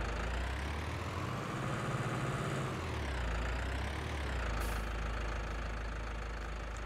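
A 136-horsepower tractor engine idles in Farming Simulator 19, a steady, close mechanical drone with slight shifts in pitch, while someone briefly says a word.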